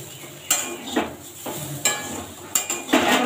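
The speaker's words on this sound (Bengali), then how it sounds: "এই যে পোস্ত দিয়ে দিলাম," Poppy seeds frying in a pan, heard as a soft, steady sizzle with several sharp clinks and scrapes from a stirring utensil striking the pan at irregular intervals, close and clear.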